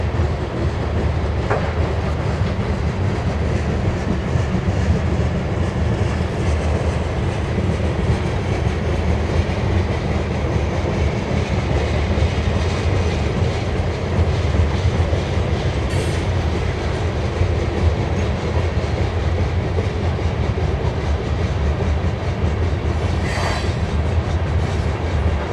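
A long BNSF westbound grain freight train passes in Spokane Valley, Washington, with a loud, continuous rolling rumble and wheel clatter that holds steady for the whole stretch. No voices are heard.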